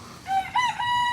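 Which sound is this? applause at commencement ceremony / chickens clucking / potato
chickens clucking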